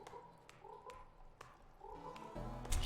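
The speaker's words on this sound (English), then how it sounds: "I hear frogs." Frogs croak in a Below The Stone mining roguelite game level, several short repeated croaks at moderate distance rising over a soft ambient game background, with a louder burst near the end.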